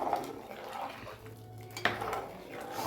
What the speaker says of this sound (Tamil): இப்போ நான் மிக்ஸ் பண்ணிக்கிறேன்.